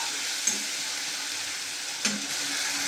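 Spice paste for mutton curry frying and being stirred in a pan, a continuous close sizzle with two brief scraping knocks from the stirring utensil.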